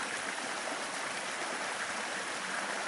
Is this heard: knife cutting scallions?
no